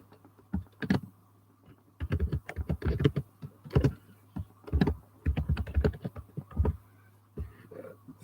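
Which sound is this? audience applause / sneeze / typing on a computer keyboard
typing on a computer keyboard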